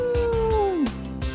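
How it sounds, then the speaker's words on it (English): A dog howls in a Mug Root Beer advert: a long, loud tonal howl that slides steadily downward in pitch and trails off, over a soft rhythmic thumping backing. "The sound of the dog."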